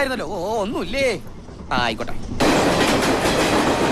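Train travelling in a Malayalam film scene: after tonal voices or sounds at the start, a loud, steady rumbling rail roar takes over for the final seconds.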